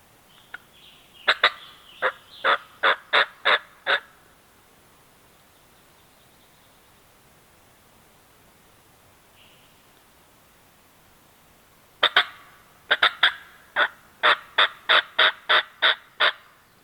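A wild turkey gobbles: two loud bursts of rapid, rattling calls, each a quick series of about eight notes, separated by a long quiet pause, in Virginia woods.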